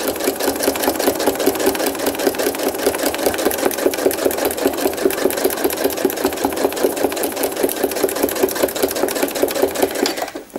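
A sewing machine stitches thread art, filling in a tree outline over a sunlit photo, its needle chattering in a steady, loud, rapid rhythm without a break for about ten seconds before stopping abruptly.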